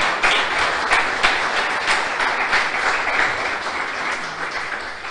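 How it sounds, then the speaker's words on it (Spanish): A church congregation applauds during an evening service, a steady wash of many hands clapping throughout, fairly loud and close, with no talk over it. "Quiero pedirle que le dé un fuerte aplauso al Señor."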